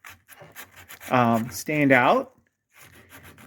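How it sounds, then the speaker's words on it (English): Light hand sanding of old wooden bedroom furniture, heard as soft, scratchy rubbing strokes before and after someone speaks, fairly close and quiet. "I'm just lightly sanding the parts that I want to"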